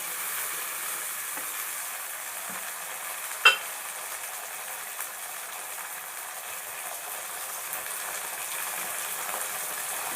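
Garlic sautéing in a pan for a dried fish curry, a soft steady sizzle running throughout with a couple of faint clinks from stirring.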